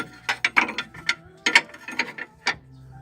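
A ratchet wrench turning a bolt on the suspension of a Mitsubishi Colt gives a few quick bursts of close, sharp clicking over about three seconds, with no talking.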